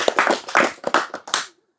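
An audience bursts into brief hand clapping at a religious talk, several quick loud claps in an uneven burst that stops abruptly into silence.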